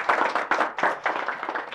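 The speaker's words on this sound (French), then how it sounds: "On applaudit très très fort pour nos invités." A studio audience at a Malian talk show claps for the guests, a dense close burst of hand claps with sharp individual slaps throughout.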